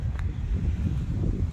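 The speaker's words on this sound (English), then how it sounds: "Oh, sorry about the wind." Wind buffets the microphone in a cemetery with a steady low rumble and rustle, loud and close, with no voices.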